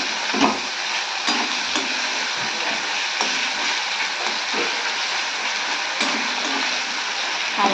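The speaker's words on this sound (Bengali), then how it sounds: "আর এই পাশে হচ্ছে মাছ ভাজাটা।" Fish sizzles in hot oil in a frying pan, a continuous crackling hiss with small pops and occasional sharper spatters, close and fairly loud with no talking.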